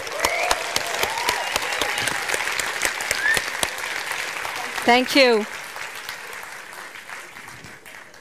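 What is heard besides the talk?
audience applause at film festival award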